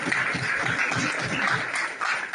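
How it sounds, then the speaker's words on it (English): An audience at a university lecture event applauds in a dense, steady burst of clapping that fills the whole moment without letting up. "Thank you so much for clapping."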